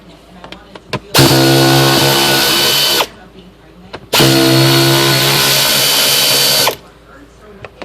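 Power tool taking apart the heater core casing of a 2002 Ford F150, running in two loud, steady bursts of roughly two to three seconds each, with quiet handling noises between them.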